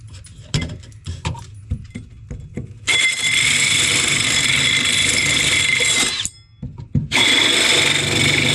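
A power drill bores a hole for a diesel heater pipe in two loud, sustained bursts with a short pause between, after a few scattered clicks and knocks of handling.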